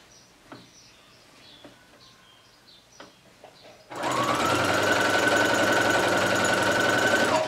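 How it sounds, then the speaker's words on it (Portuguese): A sewing machine stitches a fabric garland, starting halfway through after a quiet stretch of small handling clicks, then running loud and continuous to the end. "Então você vai costurando sem puxar muito, para não ficar enviesada"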